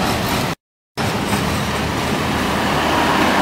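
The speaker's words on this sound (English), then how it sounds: "This Rajdhani train is crossing Tinsukia town and will reach Dibrugarh town by 6:30 a.m." The Rajdhani Express rolls through Tinsukia town, a loud continuous rumble and rattle of railcars close by, broken by one brief dropout before the steady clatter resumes.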